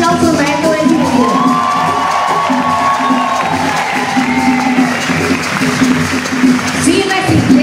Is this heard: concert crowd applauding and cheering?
yes